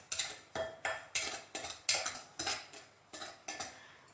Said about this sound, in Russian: Сухие продукты перемешиваю.